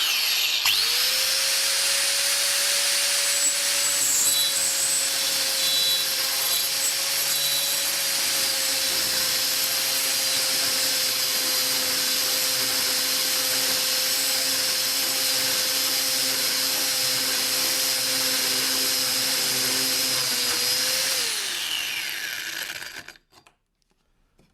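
Angle grinder with a core bit drilling a hole in tile, a loud, sustained high-pitched whine with grinding hiss. It runs steadily for about twenty seconds, then spins down and stops.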